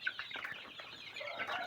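Ten young chicks chirping, a quiet cluster of high, thin peeps overlapping close by, with no talk.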